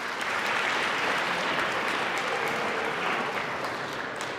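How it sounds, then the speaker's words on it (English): Audience applause at an elementary school DARE graduation ceremony, a dense, steady clapping from a crowd that holds at an even level for several seconds, with no talk over it. "Y'all give him a big applause."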